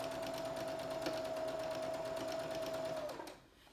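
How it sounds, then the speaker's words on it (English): Quilt blocks chain-pieced on a sewing machine give a steady, close, continuous whirring stitch run that lasts about three seconds, then winds down and stops. "Make sure my machine's ready. I do chain piecing when I do this."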